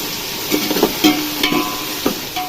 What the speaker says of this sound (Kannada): ಚೆನ್ನಾಗಿ ಫ್ರೈ ಮಾಡ್ಕೊಳ್ಳಿ ಟೊಮೊಟೊ ಮತ್ತು ಈರುಳ್ಳಿ